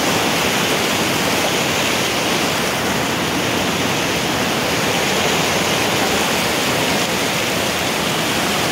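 Snowmelt water from Kanchenjunga rushes in a stream, a loud, dense, unbroken roar heard up close with no voices.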